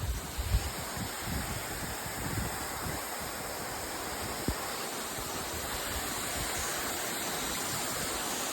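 Constant broadband roar of a waterfall, fairly near, with a few faint thumps early on and no speech.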